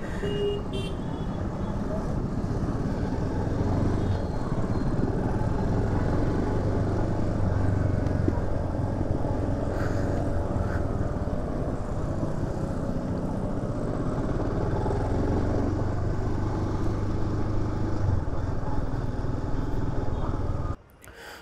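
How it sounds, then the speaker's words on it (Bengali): A new Royal Enfield Scram 440 motorcycle runs close and loud for the whole stretch, its steady engine drone carrying faint knocking pops of backfire through the exhaust, with a voice talking now and then over it. "ও মাই গড, নতুন বাইকে ব্যাকফায়ার হচ্ছে, ব্যাকফায়ার, লিটারালি ব্যাকফায়ার, ঠক ঠক ঠক ঠক করে।"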